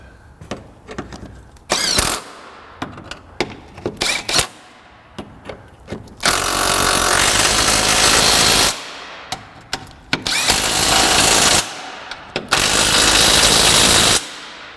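Several short bursts of a power tool driving a 14 mm socket onto a bolt while fitting front lower control arms on a 1998 Mazda 626, loud whirring runs of a few seconds each, separated by clicks and handling clatter.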